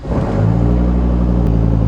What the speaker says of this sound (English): Yes, I get to start the Viper again, my favorite thing to do.